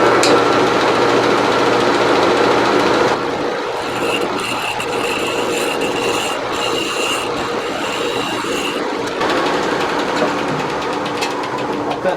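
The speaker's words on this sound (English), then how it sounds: "And I'm just going to use this scraper." A scraper works a small live-edge cherry wood bowl on a lathe: a loud, continuous rough scraping and whirring, dropping briefly then returning, with no voices.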